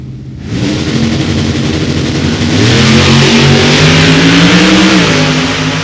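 Drag racing cars, an Oldsmobile against a Ford Mustang, launch and accelerate at an Indianapolis strip, with a loud engine roar that starts abruptly and climbs steadily in pitch while the revs build, close and dominant.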